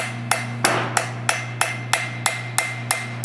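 Steady hammer blows ring out while a farrier shoes a horse, about three strikes per second in an even rhythm, each a bright metallic impact close by over a constant low hum, with no talking.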